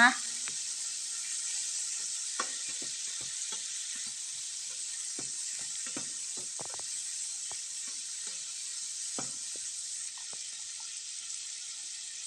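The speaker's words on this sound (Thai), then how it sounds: "ผัดปลาหมึกนะคะ ให้เข้ากับพริกกับกระเทียมของเราเลยนะคะ" Squid stir-fried with chili and garlic sizzles with a steady hiss in a hot pan, broken by scattered soft clicks and scrapes of a spatula and no talking over it.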